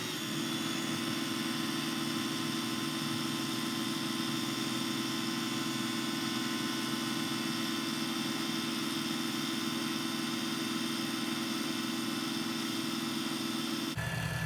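Lathe spinning a resin pen during polishing, a steady low mechanical hum with a continuous whir that holds even throughout and cuts out near the end.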